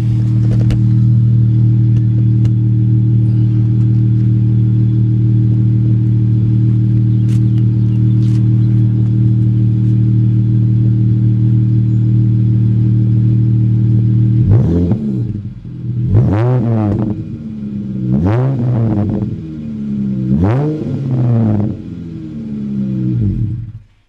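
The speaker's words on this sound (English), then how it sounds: "let's get a little exhaust clip." A V6 Dodge Challenger with a fresh performance exhaust mod idles with a deep, steady rumble for about fifteen seconds, then is revved in four sharp, loud blips that rise and fall close by.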